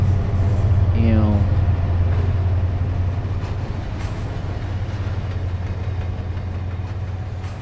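A long freight train rumbles steadily in the game Train Simulator 2017, a low continuous engine drone with rolling wheel noise that stays loud and even throughout, while a player talks over it.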